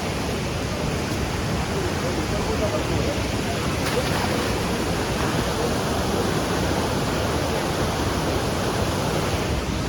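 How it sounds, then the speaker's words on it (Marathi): Steady, loud rush of a mountain stream flowing, a constant roar without pause, with a faint voice briefly underneath. "डोंगराचं पाणी येतोय इथं मध्ये फ्लो"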